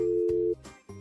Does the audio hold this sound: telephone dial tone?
yes